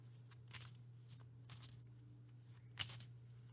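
A deck of oracle cards is shuffled in several quick, crisp riffling bursts, close and soft, with a faint steady hum beneath.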